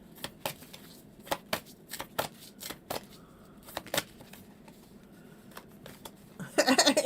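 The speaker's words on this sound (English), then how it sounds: "Your cards are shuffling funny." Tarot cards shuffled by hand during a live reading, giving a series of sharp separate riffles and taps, close and moderately loud, ending in a denser, busier flurry.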